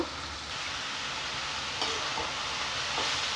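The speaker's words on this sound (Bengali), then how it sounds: "ভালোভাবে নাড়িয়ে নিলাম।" Chopped bottle gourd and green chillies stirred in a hot frying pan, a steady close sizzle with faint scraping strokes running throughout, no voices.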